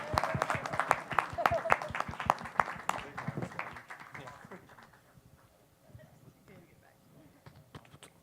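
A crowd at a music event claps in a quick rhythmic pattern, loud sharp claps for about three seconds that then fade into scattered claps and murmuring voices.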